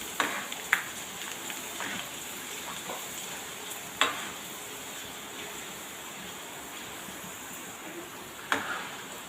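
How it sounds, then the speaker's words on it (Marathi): Corn flakes (maka poha) fry in hot oil with a faint, even crackle, broken by a few sharp pops and light stirring clicks. "आपण मका पोहे फ्राय करून घेऊ"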